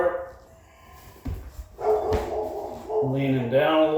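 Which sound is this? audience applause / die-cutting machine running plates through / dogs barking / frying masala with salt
dogs barking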